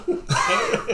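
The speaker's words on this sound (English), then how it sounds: "Does your Geist have a smoker's cough?" A rough, wet smoker's cough bursts out twice in quick succession, loud and close, with a brief throaty start before the main hacking fit.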